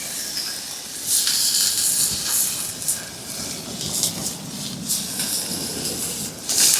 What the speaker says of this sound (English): the plastic's burning on my stove, that's what's happening